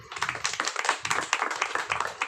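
Audience clapping at a business meeting, brisk, fairly close rhythmic applause from a group, continuous and even throughout.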